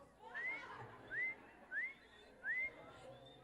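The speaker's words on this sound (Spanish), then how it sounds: "pues a chiflar." A person whistles four short rising notes in an even rhythm, faint against a soft background hiss.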